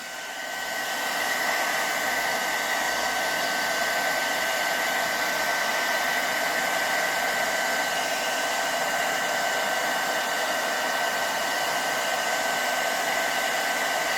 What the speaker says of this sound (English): see what the hairdryer does.